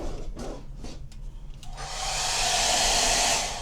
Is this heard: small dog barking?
no